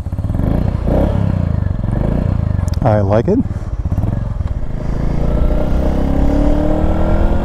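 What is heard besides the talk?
Royal Enfield Meteor 350 motorcycle riding, AEW exhaust pipe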